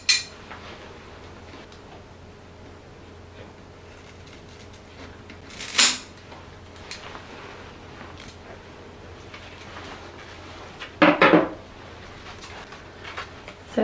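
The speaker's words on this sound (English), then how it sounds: "I'm going to start by just chopping this whole branch off, and then I will cut it into smaller sections" Pruning cuts through a Philodendron Pink Princess branch being divided into sections, a few sharp, brief snips spaced several seconds apart, close and crisp against a quiet room background.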